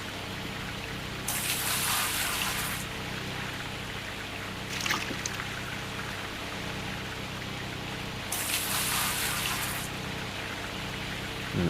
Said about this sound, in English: Just quickly flush this hog pan while we're here.